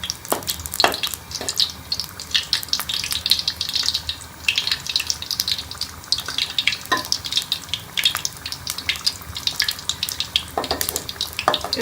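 Wheat flour biscuits deep frying in hot oil give a continuous bubbling crackle with frequent sharp pops, heard close and fairly loud throughout with no voices.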